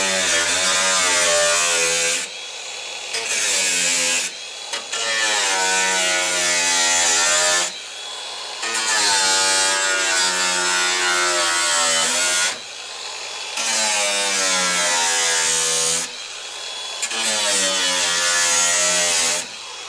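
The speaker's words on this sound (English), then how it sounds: "that's as far as we can go with the grinder" An angle grinder cuts through the rear door of a VW Crafter van, a loud whining buzz in repeated bursts of a few seconds, separated by short pauses, with no talk.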